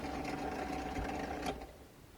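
Pillar drill with no dust extraction boring pilot holes for mosaic pins, a steady whirring motor hum with a brief rise as the bit cuts, close by.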